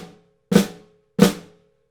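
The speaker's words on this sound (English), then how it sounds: "So a general flam might sound something like this." Two separate snare drum flams, each a quick doubled stroke with a soft grace note running into a louder main hit, ringing briefly, with silence between.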